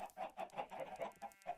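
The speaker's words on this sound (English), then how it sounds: "This is my chickens that I" Chickens cluck in a Minecraft farm pen, a quick run of short rhythmic clucks repeating about every quarter second, fairly close and moderately loud with no talking.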